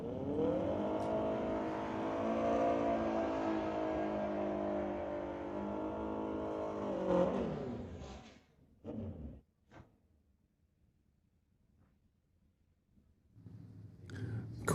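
Drag racing vehicle making a run at Mission Raceway Park during street-legal night drags, a loud sustained engine roar for about seven seconds that cuts off abruptly, followed by brief clunks and near silence, then a faint engine returning at the end.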